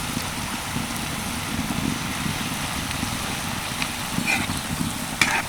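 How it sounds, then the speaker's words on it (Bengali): Palm fruit fritters deep-frying in plenty of oil, several balls at once, giving a steady close sizzle and bubbling hiss throughout with a few sharper crackles near the end. "তেলের পরিমাণটা একটু বেশি দেওয়াতে একসাথে কিন্তু অনেকগুলোই ভাজা যাচ্ছে"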